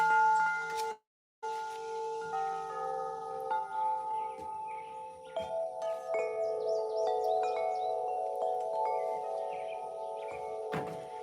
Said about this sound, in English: Let me ring my wind chimes